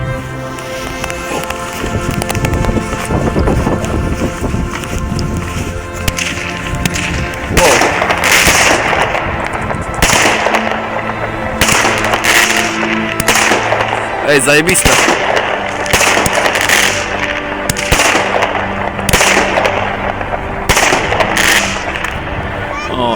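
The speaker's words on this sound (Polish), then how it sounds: "Z tej okazji odpalamy sobie fajerwerki." New Year's Eve fireworks, including a 10-shot battery, bang and crackle in rapid bursts, a string of sharp loud pops repeating over about twenty seconds, with people talking and exclaiming nearby.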